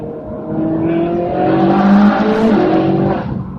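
Ferrari 458 Speciale engine heard from inside the car in a short tunnel, a loud, rising and falling high-pitched wail with gear changes, echoing and continuous for several seconds, no talking.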